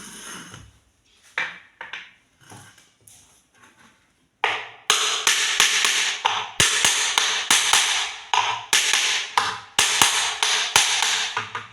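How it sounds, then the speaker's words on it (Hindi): Metal hammer blows driving a water pump bearing into place, a long run of sharp, loud, close strikes at a steady rhythm that grow louder and quicker partway through, with no talking. "इसको इसलिए ठोक रहे हैं ताकि इसका जो आगे वाला बैरिंग है वो अपनी जगह पे चला जाए।"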